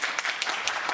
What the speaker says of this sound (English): I do need to ask that there's not clapping in the audience